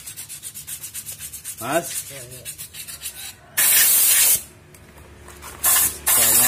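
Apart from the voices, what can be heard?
sanding a Yamaha Aerox 155 brake drum to clean it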